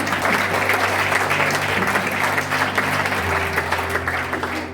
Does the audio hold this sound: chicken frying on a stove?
no